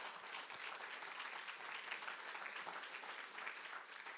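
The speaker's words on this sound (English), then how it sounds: "So a round of applause." A lecture audience at a morning keynote session claps in sustained, dense applause, a steady wash of many hands heard throughout.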